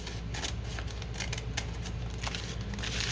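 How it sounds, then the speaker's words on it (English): Scissors snip through paper ephemera, trimming a sheet into thirds for journal cards at a crafting desk; a steady run of close, crisp cutting strokes and paper rustle with no talk. "I think I will cut it into thirds and do journal cards"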